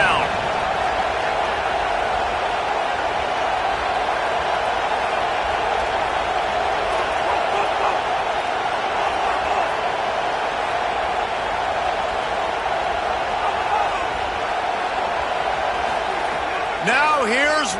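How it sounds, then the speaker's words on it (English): A Bulldogs football stadium crowd roars on third down in a loud, unbroken wall of cheering that holds steady the whole time, with a commentator talking over it. "This dog crowd is off the leash, and they are coming after them, bringing noise on third down"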